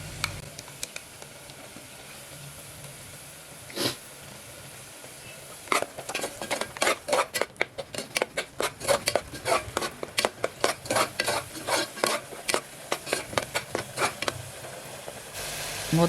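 A spoon scrapes and clanks rapidly against a pan as mutton kheema is stirred with water added, with a faint sizzle underneath: a quiet start, then a long run of sharp, regular strokes close to the listener.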